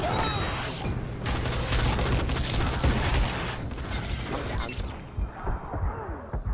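Rapid bursts of gunfire and impacts in the zombie game Dying Light, dense and loud for several seconds before thinning out, with players shouting over the action.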